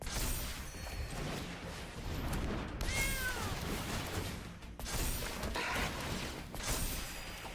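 A cat meow sound effect in a Magic card video game, rising as a short warbling cry midway over a busy layer of game music and effects, fairly quiet.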